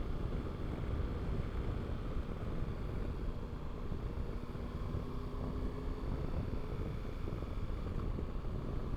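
Steady rushing wind roar buffeting a rider on a 2023 Triumph Tiger 1200 GT Pro adventure motorcycle at speed, a dense continuous low rumble with faint engine drone beneath, constant throughout with no talk.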